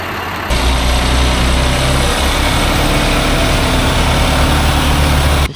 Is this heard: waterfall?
no